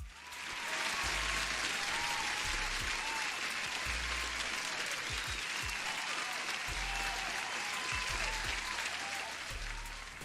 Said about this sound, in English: you deserve an applause as well